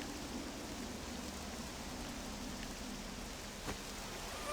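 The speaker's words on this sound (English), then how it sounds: "the rain doesn't look like it'll let up anytime soon." Rain in the video game Octopath Traveler 2 falls steadily, a constant soft hiss of drops heard alone with no voices.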